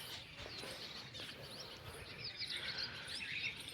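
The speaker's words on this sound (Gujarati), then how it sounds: "પક્ષીઓના અવાજ સાંભળો તમે" Birds chirp in the morning on a farm, quick faint tweets rising later over a soft, steady outdoor hush.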